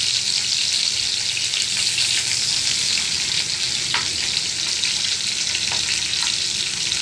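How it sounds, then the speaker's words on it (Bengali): Onions sizzle and fry steadily in a pan over lowered heat while a Bengali fish and ridge gourd chorchori is cooked, a continuous close crackling hiss with occasional stirring and no talk. "আমি এখন পেঁয়াজটাকে লাল লাল করে একটু ভেজে নিই।"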